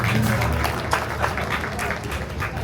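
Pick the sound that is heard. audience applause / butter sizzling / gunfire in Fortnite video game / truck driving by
audience applause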